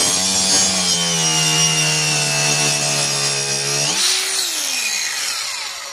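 A Mailtank MK15 brushless cordless grinder pressed hard under load, its steady high whine and grinding drone holding strong and loud, then a sudden jump in pitch as the load eases off.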